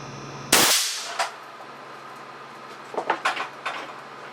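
A single sharp blast from an air cannon at 325 psi, a 410-caliber, 72-inch barrel gun firing a 175-grain hard alloy cast lead slug at a bathroom sink, followed by a few faint clattering debris impacts.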